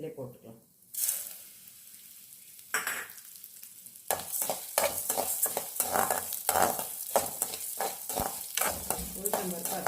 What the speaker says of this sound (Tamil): உளுத்தம்பருப்பு அதே மாதிரி நல்லா வறுத்துக்கணும்